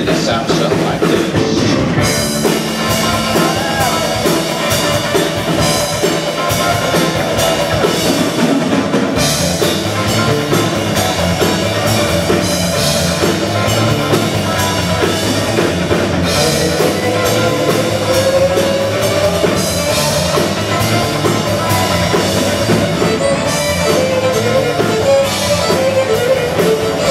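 A loud, fast fiddle tune driven by a full band, with dense rhythmic backing that plays continuously throughout.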